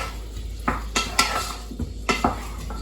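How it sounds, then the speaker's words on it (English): A spoon stirring blackberries with butter in a pan, several sharp clinks and scrapes against the metal at an uneven pace, close up with faint sizzling underneath. "Let's get our berries coated with that butter."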